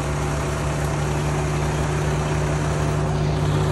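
A hot, overheated car engine idles loudly and steadily, a constant low drone with a broad hiss on top, with no talking.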